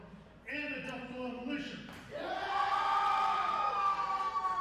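A wrestling crowd roars and cheers in a large arena, the noise swelling into a sustained loud wave of voices with a few shouts rising above it.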